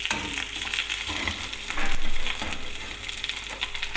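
A steak sizzles steadily in a hot pan, a dense crackling hiss that holds throughout with a brief louder surge midway.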